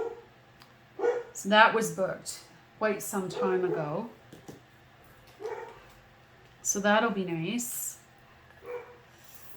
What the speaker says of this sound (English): my big dog is barking